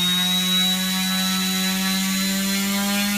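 A propeller spun by an electric motor on a thrust tester whines steadily and loud, with a strong tonal drone and bright overtones that hold constant throughout, with no talk.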